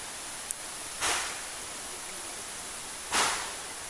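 Rain falls steadily during an outdoor puja in Karnataka, a constant close hiss of drops with two louder rushing swells and a brief tick, and no voices.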